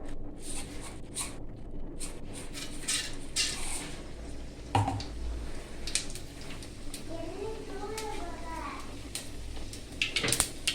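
Mustard seeds splutter in hot oil in a cooking pan while rasam is made, giving fine irregular crackles and pops against a voice speaking throughout.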